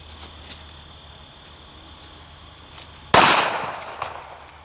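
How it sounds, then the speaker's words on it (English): A Kel-Tec P3AT .380 pistol fires a single loud, sharp shot at close range after a quiet stretch, and the report decays into a brief echoing tail. "we're just trying this pistol out now to see if this magazine catch works"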